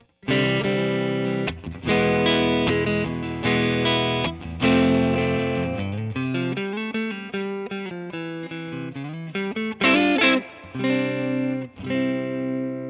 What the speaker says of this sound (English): This is all neck P90.